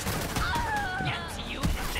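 Rapid gunfire from the video game Borderlands 3, a dense rattle of overlapping shots throughout, mixed with whooshing weapon effects and busy game noise.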